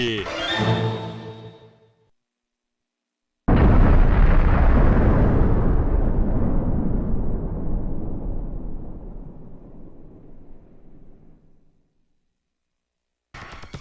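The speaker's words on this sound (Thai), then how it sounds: "จากนั้นก็ลั่นไกปืนออกไป เพียงแค่เศษพลังเท่านั้นก็ส่งผลให้ดวงดาวที่ต่อสู้อยู่ ถูกทำลายกลายเป็นผงธุลีอวกาศไปทันที" An Ultraman energy gun blast destroys a planet in a huge explosion that hits suddenly, roars loud and low, then decays slowly over about eight seconds after a brief voice at the start.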